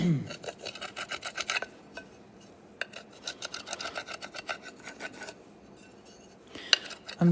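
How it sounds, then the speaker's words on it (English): Copper foil gets burnished onto the edges of stained glass pieces with close, soft rasping strokes in short repeated bursts, quiet overall, with a couple of light clicks near the end. "Burnish the copper on."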